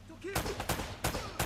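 Gunfire from the Uncharted video game on brutal difficulty comes as several sharp, loud bursts at roughly regular intervals, with a voice talking faintly underneath.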